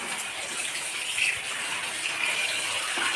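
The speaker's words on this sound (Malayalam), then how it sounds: "ഈ കവർ നമുക്ക് കഴുകിയിട്ട് ചേച്ചിമാർക്ക് കൊടുക്കാൻ വേണ്ടിയിട്ട് വയ്ക്കാം" Tap water runs steadily over a plastic cover being washed in a kitchen sink, a continuous close hiss and splash with small spattering bursts, no voices.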